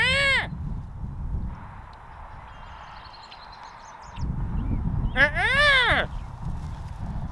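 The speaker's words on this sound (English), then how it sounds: "One of the more distinct species of bird that you might hear out here in the prairie is the red-winged blackbird." Raspy harmonic calls of a red-winged blackbird in a prairie come in two bursts, one brief at the start and a longer one a few seconds later, clear and fairly close over low rumbling background noise.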